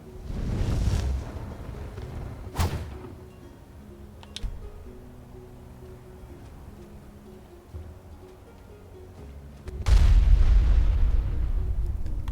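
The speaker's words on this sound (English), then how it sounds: "Create an explosive timed bomb." A timed bomb spell detonates in a fantasy video game, its blast size scaling with the caster's destruction skill; several booming bursts, one loud and sustained near the end, sound over a low game background with no talk.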